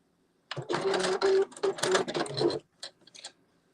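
A sewing machine stitching fabric for a Simplicity 9372 garment in bursts of rapid mechanical whirring, several short runs close together, then two brief stitches after a pause, near and clear with no talking.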